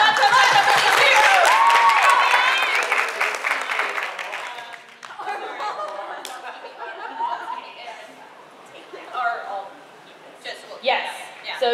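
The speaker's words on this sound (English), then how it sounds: "Clap for them." Audience applause at an anime convention panel, loud dense clapping for about four seconds that thins out into scattered claps, cheers and laughter as people talk over the crowd.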